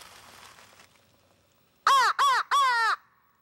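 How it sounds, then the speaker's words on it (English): Three loud, close caws blown on a crow locator call while turkey hunting ring out in quick succession after a few quiet moments, each a harsh, nasal call. "I'm going to blow the crow call first"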